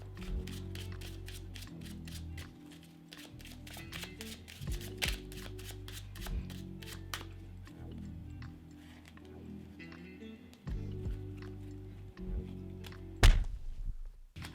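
Playing cards are shuffled overhand in rapid, rhythmic riffling bursts, close and clear, with a sharp thunk of the deck near the end.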